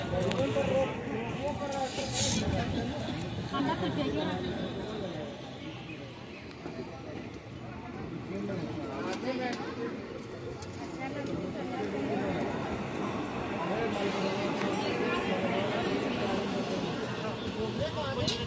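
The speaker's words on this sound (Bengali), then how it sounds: "প্রচুর পরিমাণে ভিড় আছে স্টেশনে" A crowded railway station platform on a windy, dusty day, with a constant murmur of many voices and general bustle, fairly loud and steady throughout.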